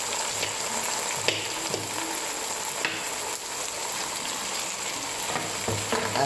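Onion, tomato and pepper frying in a pan for a Spanish pisto: a steady, close sizzle that runs throughout, with a few soft stirring knocks and no talk.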